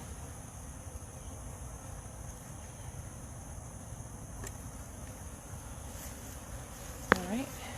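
Honey bees hum steadily around a hive outdoors, a faint, even buzz running throughout with no voice over it, broken near the end by one brief sharp click.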